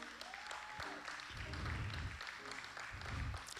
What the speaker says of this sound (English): Let's clap them out of the sanctuary, guys.